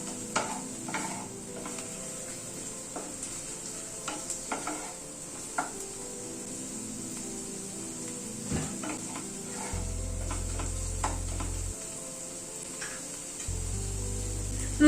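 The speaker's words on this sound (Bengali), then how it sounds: "এবার রসুন আর কাঁচা লঙ্কাটা পেঁয়াজের সাথে ভেজে নেব" Ground garlic and green chilli paste frying with onions in a pan for a rohu fish dish, a continuous close sizzle with scattered spatula stirs and scrapes, no talk.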